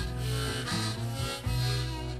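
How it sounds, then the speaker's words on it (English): Plain harmonica draw notes on a diatonic harp, played straight with no vibrato or tonal shaping in a slow blues in E: loud, flat, held tones with short breaks between them. "If you don't have vibrato and tone, it'll just sound like this."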